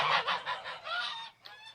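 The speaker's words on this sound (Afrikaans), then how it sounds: "Die verdomde gans is by Watertoring." A goose honks repeatedly at close range, a series of harsh nasal calls in quick succession with a short pause before a final honk, with no talk.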